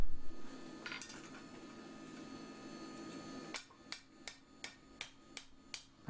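Hammer blows on a blacksmith's anvil while forging part of a lantern bracket: seven evenly spaced, ringing metallic strikes in a steady rhythm after a quieter stretch of low workshop hum.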